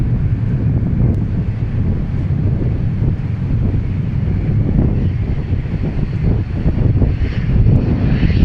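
An airplane taking off at Dallas Love Field, a loud, steady broadband engine roar heard outdoors with wind buffeting the microphone throughout and no clear speech.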